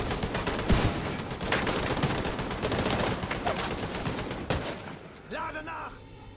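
Dense gunfire from The Division 2 shooter game, rapid automatic bursts and single cracks close and loud, rattling steadily for several seconds before cutting off, followed by a short electronic tone at the end.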